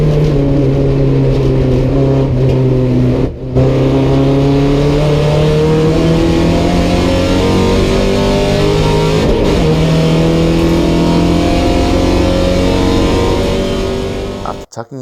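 A Porsche 944 race car in a 944 Challenge race roars loud and close, its engine note climbing steadily through the revs, briefly dipping at a couple of gear changes before pulling hard again.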